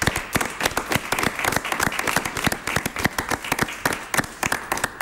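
An audience applauds with loud, dense clapping that holds steady throughout, close and energetic.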